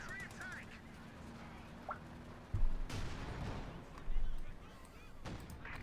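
Tank cannon fire in Company of Heroes 2, a Panther trading shots with a Cromwell; two heavy booming shots land a second or so apart mid-clip over continuous battle ambience and game effects.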